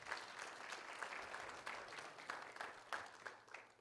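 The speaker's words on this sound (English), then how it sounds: "Round of applause for Ivan." An audience gives Ivan a round of applause at a community event, many hands clapping in a fairly quiet, roomy wash, with a few sharper claps standing out near the end.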